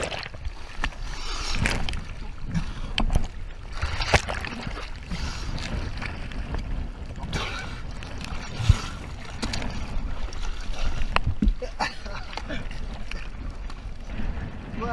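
A boat motoring along a waterway near Okaloosa Island, with steady broadband water and engine rumble, wind buffeting the microphone, and a few sharp knocks; voices talk over it at times.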